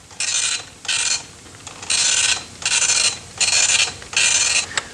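Early-1980s dot-matrix computer printer in a classroom microcomputer setup, printing out a script in six loud, rasping bursts of about half a second each, separated by brief pauses as the print head returns.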